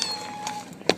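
A cat meows near a fridge indoors, a single short close call near the end following a few fainter vocal sounds.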